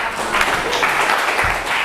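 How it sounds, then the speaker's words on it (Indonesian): A school class at SMA Alkautsar claps in response to a request, a steady, close wash of hand clapping with no pause across the short stretch. "Oke, boleh tepuk tangan?"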